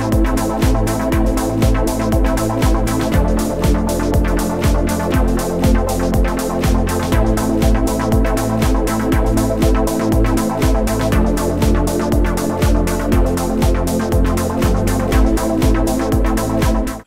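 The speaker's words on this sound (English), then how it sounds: "you can hear the nice twanging effect there, which the vintage filters are giving us" A VPS Avenger synth preset shaped by vintage filters plays a dense, sustained pattern with a twangy, resonant character, loud and steady throughout with no voices.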